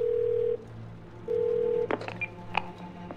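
Touch-tone telephone dialing in the video game 12 Minutes: two long steady dial tones, then a quick run of short keypad beeps, clear and close with no talking.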